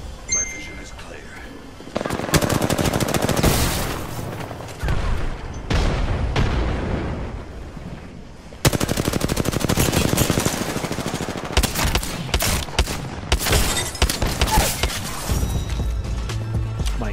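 Rapid bursts of gunfire from a gun in the video game Apex Legends, loud and dense with brief pauses, layered over game sound effects throughout.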